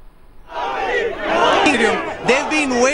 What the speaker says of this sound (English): There's a huge crowd.